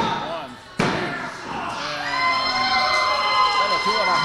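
A wrestling arena crowd cheering: a sharp slam near the start, then a dense roar of shouting fans that swells and holds loud and close to the end.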